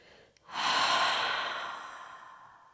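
One long, breathy exhale through the mouth, close to the listener, starting strongly and slowly fading away.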